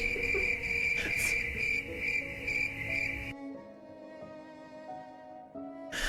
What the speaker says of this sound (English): So many crickets all at once.